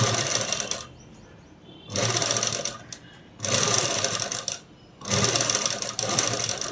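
A sewing machine stitches blouse fabric in three loud bursts, with short quiet pauses between runs.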